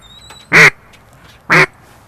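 Two loud, short quacks blown on a handheld duck call in imitation of a duck, spaced about a second apart, close and alone after a faint high whistle.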